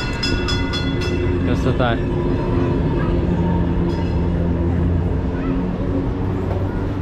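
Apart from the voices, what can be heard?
Taksim–Tünel tram passing in Istanbul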